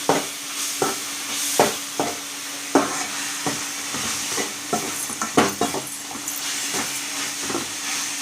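Mutton curry being stirred with ginger garlic paste in a pan, a steady hiss of frying under repeated sharp scrapes and clacks of the spoon against the pan, close and fairly loud with no talking.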